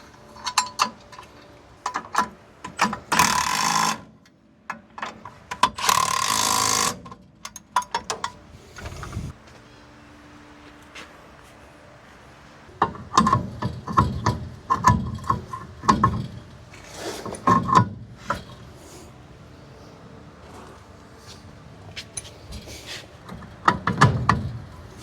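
Ratchet wrench bolting a steering part onto a Galaxie, bursts of rapid close metallic clicking and clanking with pauses between, some handling knocks and no speech.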